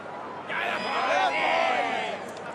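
Vast crowd at the MCG during an AFL match between Collingwood and Carlton, a swelling roar of cheering that rises and holds before easing off, with commentary talk underneath.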